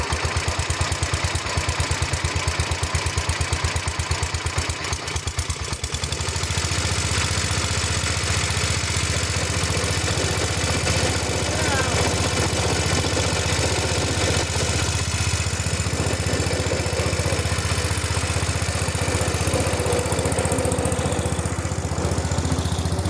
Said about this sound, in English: we're gonna fire this up and this thing's gonna move up and down with the hydraulics.